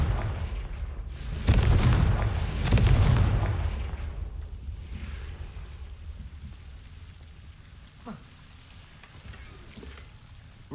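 A Confringo blasting spell bursts in Hogwarts Legacy, two heavy booming blasts close together near the start, then a quieter rumbling tail with a few faint clicks fading away.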